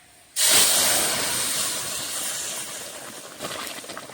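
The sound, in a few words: vegetables added to hot tempered oil, sizzling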